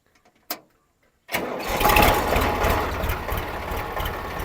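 A couple of faint clicks, then a tractor engine cranks and roars to life, settling into a loud, steady rumbling idle nearby.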